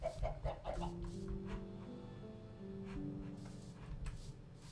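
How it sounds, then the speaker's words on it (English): Chickens clucking in the Minecraft video game, a series of short pitched clucks close by and fairly quiet, repeating at an uneven pace with no talk. "I hear chickens."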